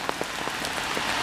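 Rain falls steadily in a London park, a close hissing patter with scattered heavier drops tapping on surfaces, no voices present.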